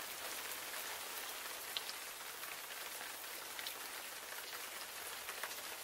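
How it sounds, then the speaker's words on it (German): Steady rain falling on a surface, a dense even patter of drops with occasional louder splashes, continuous throughout with no voices. "Es regnet und regnet und regnet."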